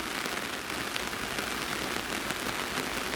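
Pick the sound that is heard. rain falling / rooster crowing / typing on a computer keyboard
rain falling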